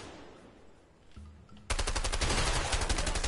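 Automatic gunfire in the video game A Way Out erupts suddenly after a quieter moment, a loud, close, rapid stream of shots hammering on steadily to the end.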